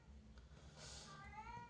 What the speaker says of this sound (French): C'est une habitude hein, que vous l'entendez miauler.